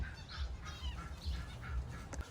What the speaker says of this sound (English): Can you do something about that duck?